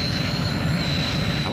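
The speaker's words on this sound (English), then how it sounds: "In her ladybird jet, which only appeared, I think, a couple of times." Jet engine of the Thunderbirds ladybird jet, a steady whining roar with a high sustained tone, loud and continuous throughout, with faint voice-like sounds mixed beneath.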